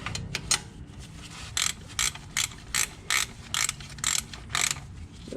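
A hand ratchet tightens bolts during a B&M shifter install in a Grand Prix car, giving a steady series of about a dozen crisp, close clicks at an even rhythm after a few quicker ones.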